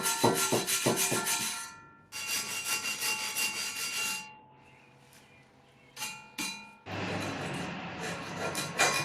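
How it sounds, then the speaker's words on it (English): A wire brush scrapes flaking paint off a steel trailer hitch for a 2004 Honda Pilot, in close, loud bursts of gritty rubbing strokes separated by brief pauses. "Then I used a wire brush to knock off the larger flakes of paint."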